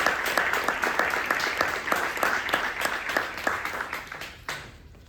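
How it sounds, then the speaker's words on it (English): Audience applause at a citywide community gathering on reparations, sustained full-room clapping that stays loud and even, then fades out near the end with no talk. "Greet her with a round of applause."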